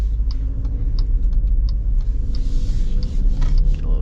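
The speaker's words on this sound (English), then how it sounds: "Acceleration here, and it's not like full throttle, but it's pretty good." A 2024 Jeep Grand Cherokee Summit 4xe plug-in hybrid accelerating at part throttle, heard from inside as a steady low road and engine rumble with faint ticking clicks over it.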